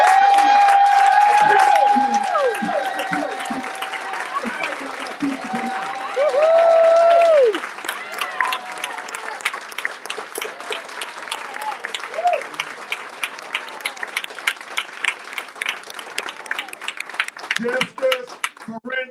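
A New Haven community crowd at a family press conference applauds Attorney Ben Crump, loud steady clapping with tonal voices and cheers over it early, thinning to scattered claps and calls.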